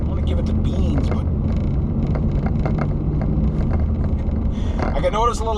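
A 2006 Dodge RAM 1500 pickup on the move, its exhaust giving a steady low rumble with road and wind noise, while a voice talks over it and a brief warbling tone rises near the end.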